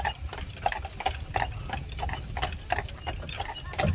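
A team of horses, Belgians or Percherons, is hitched to a carriage on Mackinac Island, hooves clopping irregularly at moderate distance amid clinking, ratcheting harness and carriage mechanisms, with no talk.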